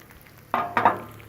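Bacon sizzling on a Blackstone griddle: a few short bursts of frying crackle, close and moderately loud, over a quiet background.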